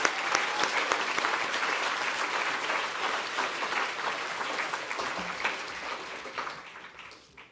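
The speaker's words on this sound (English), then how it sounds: "So please give Sacro a huge round of applause." Sustained, dense applause from a large audience at the Scottish Charity Awards ceremony, a steady wash of many clapping hands that holds evenly for several seconds before tapering off at the end.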